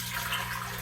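Water pours from a bucket into a pitcher: a short, steady, faint hiss of running liquid.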